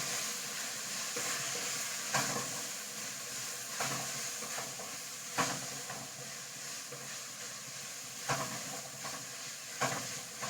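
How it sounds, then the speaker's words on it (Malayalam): Ground spices, pepper and coriander powder among them, stirred in a hot pan for Kannur-style beef biryani, with a steady sizzle and hiss under repeated scraping strokes of the spoon, close and without talk. "നന്നായി ഒന്ന് ഇളക്കി കൊടുക്കാം."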